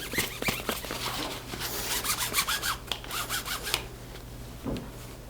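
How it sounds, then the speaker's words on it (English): Metal brake cable on a bicycle being worked straight by hand, giving a steady rasping, rubbing scrape with repeated strokes, close and moderately loud with no talking. "I'm straightening out that cable."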